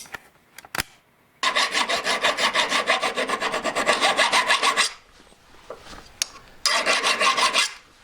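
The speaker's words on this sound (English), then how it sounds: "So now it's filing this up a little bit more." Steel file rasping across a nickel ring after soldering, in long steady rhythmic strokes over about three seconds, a pause, then another short burst of filing, close and fairly loud with no talk.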